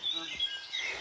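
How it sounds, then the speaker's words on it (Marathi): A bird calls in the Vasota jungle with thin, high chirps and tweets repeating over a soft, steady background hiss. "पक्ष्याचा मस्त आवाज येऊन आला खतरनाक."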